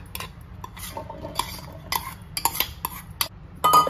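Boiled chana dal spooned into a mixer jar for a suran (elephant yam) kabab, heard as a run of close metallic clinks and scrapes of a spoon against the steel jar, with brief pauses between.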